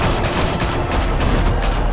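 Rapid bursts of gunfire in the Batman Telltale Series game, dense crackling volleys filling the whole stretch at close range, loud and continuous with no voices.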